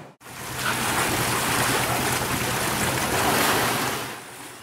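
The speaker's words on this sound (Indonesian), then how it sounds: "Cuaca buruk yang melanda pantai di Kota Gunung Sitoli, Nias menyebabkan gelombang pasang kerap terjadi sepekan terakhir." High tidal waves crash onto a beach in bad weather at Gunung Sitoli, Nias, Indonesia, a loud, continuous surging roar that swells and fades with wind noise and no voices.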